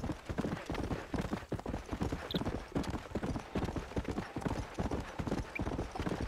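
Steady hoofbeats of a horse in the Red Dead Redemption game, a close, even clip-clop rhythm that carries on unbroken throughout.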